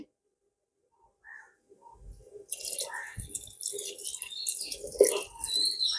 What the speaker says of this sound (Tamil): இப்போ வந்து நான் கடைசியாக கரைச்சி வச்ச புளியையும் விட்டு முதல் பாலையும் விட போகிறேன்